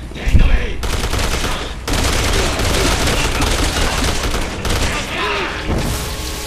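Gunfire in Resident Evil 6 during the Ada campaign: a dense, loud, continuous barrage of overlapping shots and booms that lasts throughout, with only brief dips.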